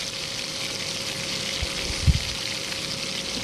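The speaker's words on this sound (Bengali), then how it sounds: "মাছগুলো নামানোর পর ফ্রাই প্যানে পেঁয়াজ কুচি দিয়ে দিলাম।" Chopped onion sizzles in a frying pan just after small tengra fish were fried, a quiet steady crackle with a few soft thumps partway through.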